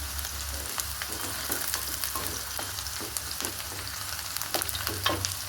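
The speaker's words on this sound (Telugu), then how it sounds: "ఉల్లిపాయ వేగేటప్పుడు కొన్ని మెంతులు వేసుకోవాలా." Sliced onions frying in hot oil with fenugreek seeds and green chillies for a fish curry, a close, steady crackling sizzle with occasional stirring scrapes throughout.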